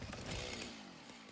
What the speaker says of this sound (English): Can I chainsaw any of this stuff?